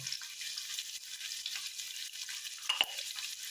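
Boiled chickpeas and kidney beans fry in a pan for rajma chola pulao: a steady, close sizzle with stirring scrapes, and a brief sharper scrape near the end.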